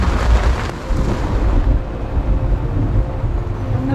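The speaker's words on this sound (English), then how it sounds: "the boat shakes from the thunder, like you can feel it in your feet" Thunder rolling over a boat on the water in the Costa Rican jungle, a loud, continuous deep rumble with a sharp crack near the start, heavy and close, without talk.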